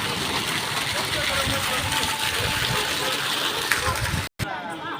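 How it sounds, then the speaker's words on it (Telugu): A waterfall rushes with a steady, broadband roar that fills the scene, continuous and fairly close, cutting off briefly near the end. "ఇదే వాటర్ ఫాల్స్"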